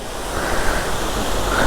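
A waterfall swollen with rain pours out in a steady, loud, broadband rush of water that fills the whole moment, with no voices over it.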